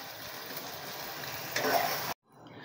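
Chicken wings tossed with chopped green chilli and spring onion fry in a pan with a steady sizzle that swells briefly, then cuts off and returns faintly.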